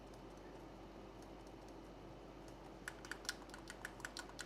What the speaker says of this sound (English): Bumpers are lovely and clicky